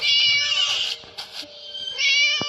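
A high, harmonic kitten meow in the game Scary Teacher 3D repeats several times in close succession, loud and near, with a short pause before a final drawn-out cry.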